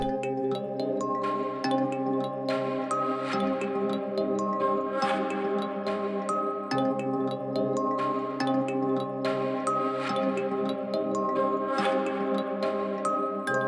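Dark ambient flute sample in FL Studio drenched in heavy delay and reverb, lows and highs cut by EQ, a repeating melodic pattern with smeared, echoing tones over steady backing sounds.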